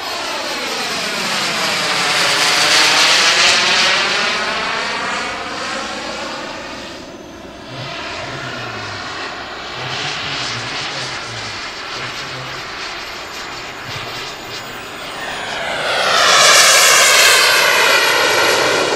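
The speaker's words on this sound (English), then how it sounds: "F-14 on a gear pass." An F-14 jet fighter makes a gear pass at an air show, its loud jet roar sweeping in, easing while it passes, then swelling again as it comes around, steady and continuous throughout.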